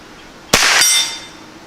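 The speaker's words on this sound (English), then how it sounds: "We'll go with the gong again." A rifle bullet strikes a steel gong target at 50 yards, a single loud metallic clang that rings on and fades slowly over quiet outdoor background.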